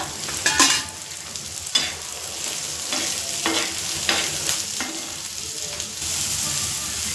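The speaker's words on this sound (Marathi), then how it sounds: "तेल टाकून चांगले भाजून घेते कांदे मस्त" Onions fry in oil with a continuous moderate sizzle, broken by several sharp stirring scrapes and clinks of a spoon against the pan at irregular intervals.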